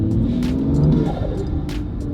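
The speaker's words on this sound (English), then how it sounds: "The Berger Motorsport intake, listen to this." A BMW M2 with a Burger Motorsport intake is driven in comfort mode, its engine note loud and close, with a rising, droning intake tone and a few sharp higher bursts over the steady rumble.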